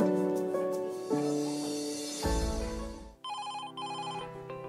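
An office telephone rings over background music, with a bright, repeating electronic ring pulsing in two bursts near the end.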